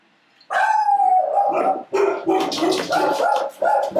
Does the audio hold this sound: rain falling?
no